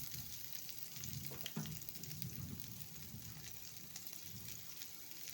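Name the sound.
onion frying in a pan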